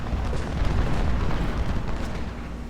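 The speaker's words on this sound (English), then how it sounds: "I'm going to let the cannons fire one more volley here" Cannon volley in the Ultimate General Civil War video game, a dense continuous roar of overlapping booms and rumbling blasts sustained at a loud, even level throughout.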